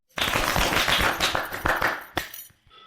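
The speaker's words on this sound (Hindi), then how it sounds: "तो बच्चों बजाओ ताली।" Children clapping at a village Republic Day celebration, a brief burst of close, fairly loud uneven claps that thins out into a few scattered final claps.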